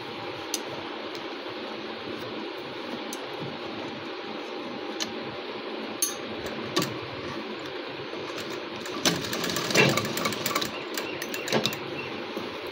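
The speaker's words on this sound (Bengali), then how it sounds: "বসিয়ে নিয়ে নিচের দিকটা তোমরা মেশিনে সেলাই করে নিও।" A sewing machine hums steadily while stitching a saree fall, with faint ticking clicks and a brief louder burst of running near the end, heard quietly in a room.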